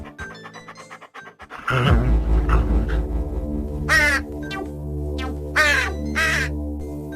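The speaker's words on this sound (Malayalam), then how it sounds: "പാണ്ഡൻ കാക്കയെ ഓടിച്ചു" A crow caws several times in sharp bursts near the end, loud and close, over a steady musical background in an animated children's story.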